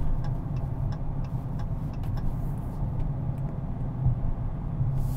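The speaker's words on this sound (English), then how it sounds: "I love the sound of this car." A 2022 Dodge Charger R/T engine heard from inside the cabin on a test drive, a low steady rumbling drone with a faint ticking layered over it and no talk.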